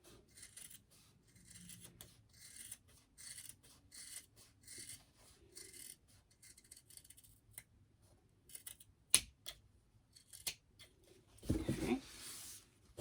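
Scissors trimming fabric around a machine-embroidered monkey bib, with soft intermittent snips and rustling, quiet and close, ending in a louder handling burst.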